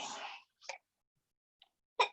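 A single close sneeze bursts out, followed by a couple of short, sharp breathy sounds with silence between them.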